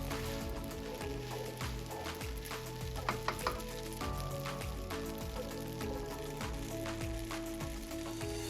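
Chicken chow mein sizzles and fries steadily in a pan while being stirred, with a dense continuous crackle and occasional utensil scrapes and clinks, close and alone.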